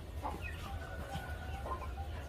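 A rooster and a hen cluck softly a few times near a naval camp, faint calls over a low steady background rumble.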